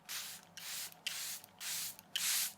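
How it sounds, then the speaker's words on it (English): Makeup setting spray misted over powder on the face, four soft hissing bursts in a steady rhythm with brief pauses between them, close and quiet, with no voices. "Now, use the setting spray again"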